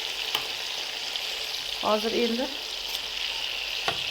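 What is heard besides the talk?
fish frying in oil until browned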